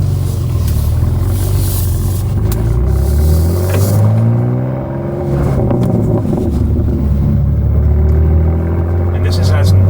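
A BMW G87 M2 fitted with an AWE exhaust drives in normal mode, its engine and exhaust rumbling steadily with shifting pitch through the cabin, while people talk over it.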